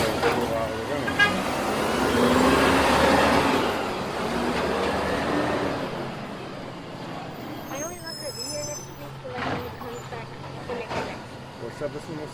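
A garbage truck rumbles past loudly with a heavy engine roar that swells and fades, followed by hydraulic whines and clanks as it operates, with people talking over it.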